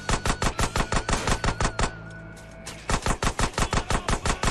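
Rapid automatic gunfire from GTA San Andreas rattles in fast, evenly spaced bursts, loud and close, pausing for about a second before resuming at the same pace.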